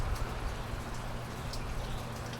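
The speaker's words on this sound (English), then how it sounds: "Just wanted to show you how rainy and nasty it is out here." Rain falls steadily outdoors, a dense hiss with scattered sharper drops hitting surfaces nearby. It is soft to moderate in level, with no voices.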